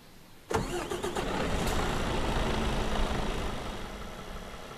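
Mercedes truck engine in Euro Truck Simulator 2 cranks and catches after a brief quiet start, then settles into a steady, moderately loud idle that fades slightly toward the end.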